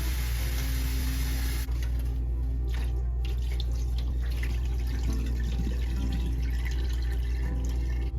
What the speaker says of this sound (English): We're just going to run a little bit of water over them and give them a good rinse.